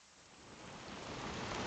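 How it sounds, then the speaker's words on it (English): Steady rain falls outdoors, a continuous dense hiss of drops on surfaces that swells slightly louder over the short stretch, with no voices. "Just sitting out, watching it rain"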